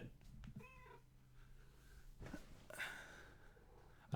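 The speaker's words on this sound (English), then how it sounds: "I don't know if you can hear the cat meowing or not" A cat meows quietly a couple of times, faint and somewhat distant, against a low background hum.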